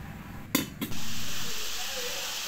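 Coconut murukku dough is pressed into hot oil. A couple of brief soft knocks come first, then a steady, hissing sizzle of frying takes over and gradually eases.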